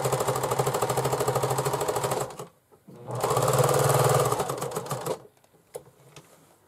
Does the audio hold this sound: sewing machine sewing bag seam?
yes